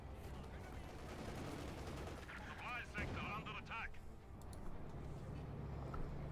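Tank cannon shots and armor hits from Company of Heroes 2, with a Panzer IV and KV-2 trading fire. Booming blasts and metallic impacts rumble under a battlefield din with a whistling shell, moderately loud.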